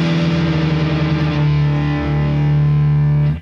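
An electric guitar plays sustained, distorted chords through a Sekhmet Overdrive into a Knucklehead reverb pedal, ringing loud and thick with a spacious tail before cutting off abruptly near the end.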